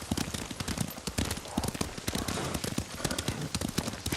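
Horse hooves clop in a quick, steady riding rhythm within the Ghost of Tsushima video game, loud and continuous, layered over a dense wash of ambient game sound.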